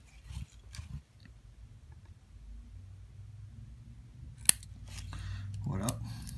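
Small cutters snip a length of vape coil wire, a sharp single click standing out amid faint handling noise and quiet background rustle.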